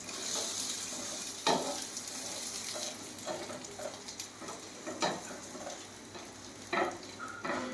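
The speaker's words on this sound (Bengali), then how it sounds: "এটাকে ঠিকমতো দুই পিঠ ভাজতে হবে।" An egg roll fries in a pan with a steady, close oil sizzle, broken now and then by the sharp scrapes and taps of a spatula turning it.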